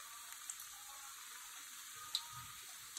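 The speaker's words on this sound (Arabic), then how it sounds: "ادي اول قلي" Cauliflower pieces fry in hot oil, a steady close sizzle with faint pops and crackles throughout.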